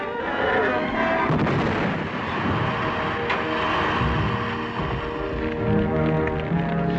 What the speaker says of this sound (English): I'll destroy it with this grenade.